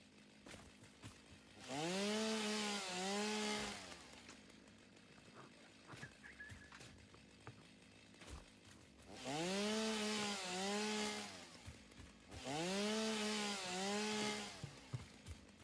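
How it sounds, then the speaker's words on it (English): A chainsaw in the video game Satisfactory cuts in three loud, sustained bursts of buzzing, identical in tone, separated by short quieter gaps. "It really couldn't add like randomization to the chainsaw sound there."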